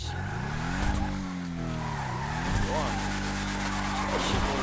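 A video-game car, started by hotwiring, revs and drives off with tire squeals and skidding, engine pitch sweeping up and down loudly throughout as voices talk over it.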